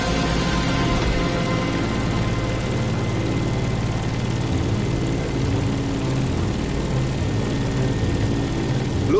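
Propeller airplane engine in The Crew Motorfest climbing steadily over Molokai, a loud, continuous droning hum with a low throbbing undertone that holds for the whole stretch with no talk.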